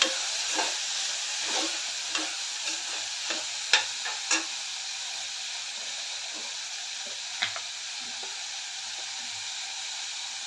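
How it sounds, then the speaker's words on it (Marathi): Turmeric being stirred into food in a pan over a steady background sizzle and hiss, with a few soft clicks and scrapes of the spoon against the pan, close and fairly quiet, with no talking. "हळद घालून सर्व मिक्स करून घेऊया"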